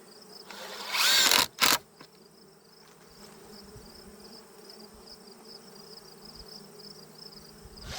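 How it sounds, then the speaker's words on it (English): A short burst of ratcheting clicks from a ratchet at an open-air beehive, then a second brief one, followed by a faint, steady buzzing of bees. "I know that ratcheting sound does make the bees a bit jumpy"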